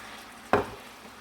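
Apples with sugar, brown sugar, cinnamon and vanilla cook over a low flame in a pan, with a single brief stir or scrape over a faint steady simmer.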